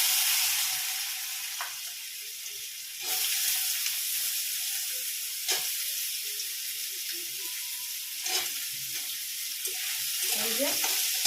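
Potatoes frying with black cumin in a wok, a steady broadband sizzle with occasional stirring scrapes and clatter, close and continuous, without talk.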